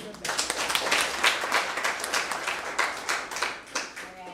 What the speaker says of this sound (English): Let's clap for Rebecca.